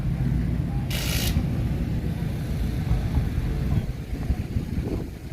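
A race car known as the Punisher rumbles at KD Motorsports Park, a deep, steady low engine drone that stays loud throughout, with a short bright hiss cutting in near the one-second mark.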